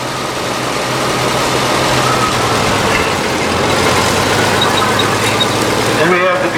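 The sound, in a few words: engine of a 1944 Oliver 60 row crop tractor in a parade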